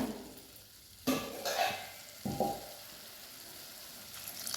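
A sharp hiss bursts from a hot pan of masoor dal and potato curry as half a glass of water hits it, then a second splash brings another brief sizzle before the frying settles into a low crackle.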